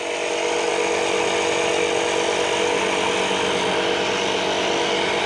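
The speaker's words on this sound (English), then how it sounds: "I've got a dancing compressor." An air compressor runs continuously while inflating a tire that may be off the bead, a loud, steady motor hum and hiss with no pauses.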